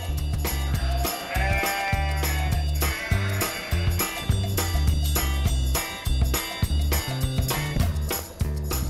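Merino sheep bleat repeatedly in a new farm setting, wavering calls rising over a steady low hum and frequent clicking and ticking noises, heard close and fairly loud throughout.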